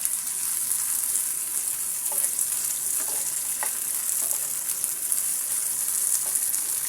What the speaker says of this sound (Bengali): এবার আমি পেঁয়াজ এবং রসুন কুচির সাথে চিংড়ি মাছটা ভেজে নেবো